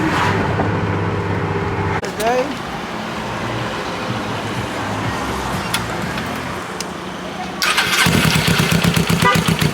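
A car engine in a street setting near a car meet starts with a burst and runs through a loud, rough warm-up idle; around eight seconds the revs rise into a louder, pulsing rumble, with traffic noise in the background.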